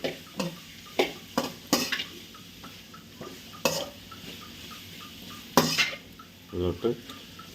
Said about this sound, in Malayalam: നമ്മുടെ പാനിലോട്ട് ഉള്ളി തട്ടി കൊടുത്തിട്ടുണ്ട് കേട്ടോ നന്നായിട്ട് മിക്സ് ആക്കി നന്നായിട്ട് വഴകും